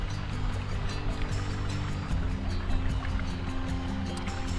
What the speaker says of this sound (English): Your auditory hydration is brought to you by the Spring Creek out here in Lebanon,